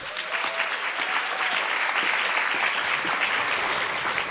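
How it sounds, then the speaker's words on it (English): A summit audience gives a round of applause for a panelist, many hands clapping in a dense, even burst that holds at a steady loud level for several seconds without speech. "Please give a round of applause once again for Celine Seman."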